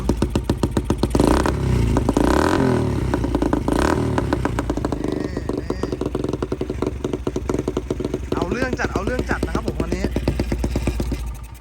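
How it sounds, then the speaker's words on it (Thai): Suzuki GD110 motorcycle, a 2018 model customized as a chopper, revving loud and close with repeated throttle blips over a steady, rapidly pulsing single-cylinder idle, with clattering mechanical noise throughout. "เราจะลองเบิ้ลให้ฟังสักนิดหน่อยนะครับผม"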